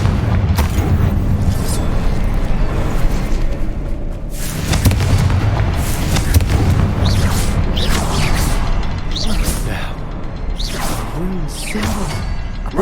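Fiery explosions from the Confringo spell in the PS5 game Hogwarts Legacy burst and whoosh repeatedly over a dense, loud rumbling combat background.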